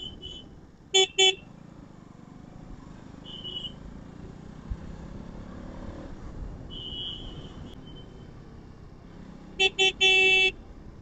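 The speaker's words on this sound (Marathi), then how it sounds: "ट्रॅफिक आहे, एवढी ट्रॅफिक आहे" Car horns honking in short bursts through a traffic jam on the Mumbai-Goa highway, with a couple of quick toots early on and a longer blare near the end over a steady road rumble.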